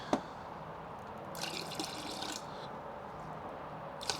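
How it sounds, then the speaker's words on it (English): Rinseless car wash liquid pours from a pump sprayer in a faint, steady trickle and splash lasting a few seconds, with soft clicks at the start and end. "pour some back out of the pump sprayer."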